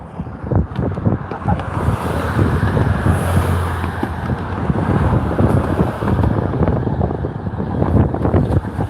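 Steady road traffic on a Sunday near the Saginaw River, a continuous wash of passing vehicles mixed with heavy wind buffeting the microphone, loud and unbroken.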